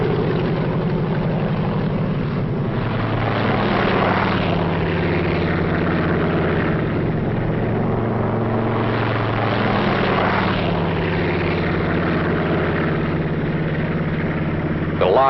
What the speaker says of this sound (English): They had massed hundreds of British and American gliders in preparation for the most gigantic aerial towing job ever attempted.